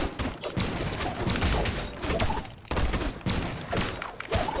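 Rapid bursts of gunfire in the Brawlhalla fighting game, clustered volleys of sharp shots and thumps arriving in several loud waves with short gaps between them.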